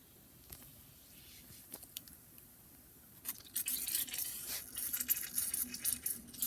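Soft fizzing and crackling as a bath bomb dissolves in water builds after a quiet start, becoming a steady bubbly hiss with small pops, close by.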